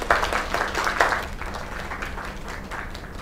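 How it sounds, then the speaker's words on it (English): A crowd applauds steadily, dense clapping that starts strong and eases off slightly as it continues. "Another round of applause."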